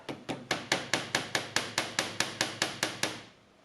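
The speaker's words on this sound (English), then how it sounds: "and then I just get a little hammer" A small hammer taps a brake line olive onto its tube during a custom brake line install on a Corrado VR6 Turbo 4WD, making about fifteen sharp, evenly spaced metallic taps that stop with a short ringing fade.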